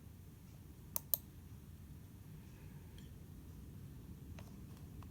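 A computer mouse clicks twice in quick succession on a website's continue button, crisp and close against a steady faint background hiss.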